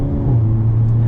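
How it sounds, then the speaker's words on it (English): Hyundai i30 N sedan engine idling after a cold start in N mode, a steady, loud low rumble close by with a slight rise in pitch partway through, no voices. "It's the cold startup sound is going to wake up the kids."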